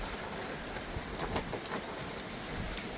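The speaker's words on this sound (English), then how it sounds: "Here comes the more heavier rain." Steady, heavy rain from a small, intense storm cell pours down over Montreal, a dense continuous hiss with a few louder drops, heard alone without voices.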